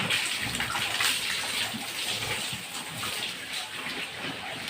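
Water splashes and pours steadily while a pig is bathed during cleaning of a pig pen, a continuous close gushing wash with no speech.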